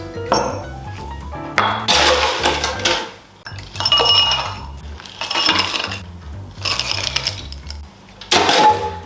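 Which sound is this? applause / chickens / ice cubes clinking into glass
ice cubes clinking into glass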